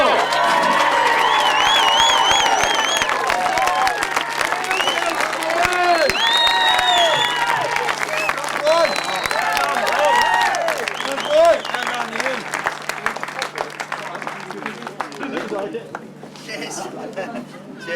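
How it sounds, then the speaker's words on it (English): A crowd at the 2005 British Masters grasstrack meeting applauds and cheers the Masters champions, sustained clapping mixed with whoops and chatter, with a voice over the public address. "With the biggest round of applause this afternoon, please, for Rob Wilson and Ian Wales."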